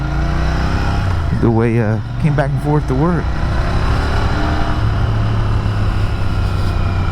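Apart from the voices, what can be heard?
Royal Enfield GT650 motorcycle engine riding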